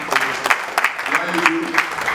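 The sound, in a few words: audience round of applause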